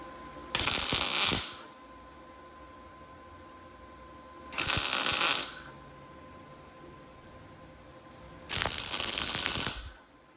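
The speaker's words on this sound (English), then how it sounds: "Reef it down good and tight with the big old channel locks." A weld table post clamp is tightened with big channel locks in three separate bursts of gritty metallic rasping and clicking, each about a second long with quiet pauses between.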